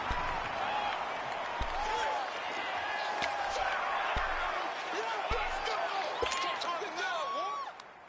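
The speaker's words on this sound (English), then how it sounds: "the crowd getting into it as we come up on a big 3rd down" Crowd noise swells steadily in a football video game stadium ahead of a big third down, a broad continuous roar with whistles and cheers rising and falling throughout before easing off at the end.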